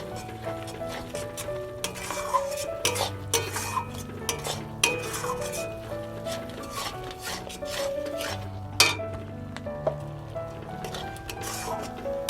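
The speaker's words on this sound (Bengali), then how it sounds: "এবার এটাও ভালোভাবে মিশিয়ে নেব" Turmeric being stirred into Bengali chicken curry in a pot: repeated scraping and clanking of a spoon against metal in an uneven rhythm, close and fairly loud, with a faint tonal hum beneath.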